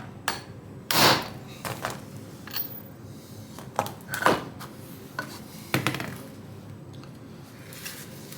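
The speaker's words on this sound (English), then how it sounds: "I'm going to give it a couple of whacks like that on both sides." A hammer strikes moped engine parts during engine assembly, a handful of sharp, loud metallic whacks spaced irregularly, with quieter knocks between them and no talking.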